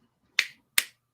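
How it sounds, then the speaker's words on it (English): Two crisp finger snaps, close and loud, spaced a little under half a second apart, each a sharp click with a short fading tail against near silence. "I'm like getting ready to snap my fingers in my ear"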